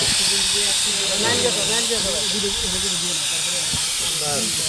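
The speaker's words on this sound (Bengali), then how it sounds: "এই যে অক্সিজেন আসছে" Oxygen hisses continuously into a poly bag used to transport live fish. The loud, steady rush is close by, with voices talking faintly underneath.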